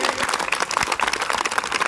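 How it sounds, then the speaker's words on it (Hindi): Loud applause welcomes donors at a school honouring ceremony for girls' education, a brief dense burst of many hands clapping with sharp individual claps. "आप एक बार जोरदार तालियों से इनका स्वागत कीजिए"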